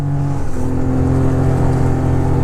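A 2005 Honda CRF250X trail dirt bike engine runs loud and close, holding a steady buzzing harmonic drone at high revs with slight pitch wavering and no talking.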